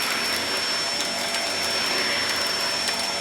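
A vacuum cleaner runs with its brush roll spinning in carpet mode, a steady, close, continuous whirring drone with a high whine on top, unbroken for the whole stretch.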